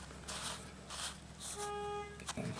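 Car horn honking outdoors, a single faint, steady toot of about a second heard in the distance over quiet background noise.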